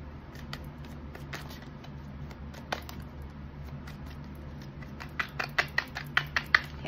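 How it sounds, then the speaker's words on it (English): Quiet faint rustling gives way to a quick series of sharp tarot card flicks near the end, like a deck being riffled, over a low hum. "let's shuffle."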